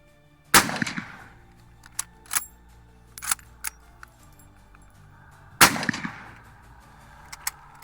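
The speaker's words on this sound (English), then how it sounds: "you sure feel it when this gun goes off" Two loud, sharp rifle shots from a Mosin Nagant 91/30, a roughly 90-year-old bolt-action military rifle, fired outdoors about five seconds apart, each with a ringing echo, and small clicks and clatter from working the action in between.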